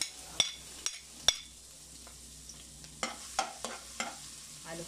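Ginger sizzling in hot oil for papaitan beef stew, a soft steady crackle broken by sharp clinks and scrapes of a utensil stirring against the pan, with no talking.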